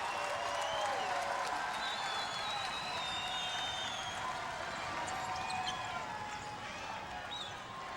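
Basketball arena crowd at a Vermont vs. Canisius college game roars and applauds steadily, a dense sustained cheer with occasional sneaker squeaks over it.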